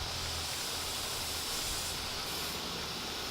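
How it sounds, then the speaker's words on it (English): An air compressor in a workshop filling giant backhoe tires: a steady, broad hiss of rushing air with a low hum beneath, constant and moderately quiet, with no voices. "I'm going to be able to fill up these giant tires a lot easier"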